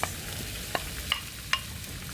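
Sliced potatoes go into a frying pan of hot oil for tortilla de patata, giving a soft sizzle with a few light scraping clicks from a utensil.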